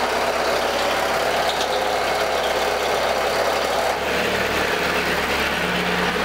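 A Chevrolet Celta's air suspension compressor runs with a steady loud hum near the engine bay, then shifts and drops slightly near the end as it is switched off, with no talk.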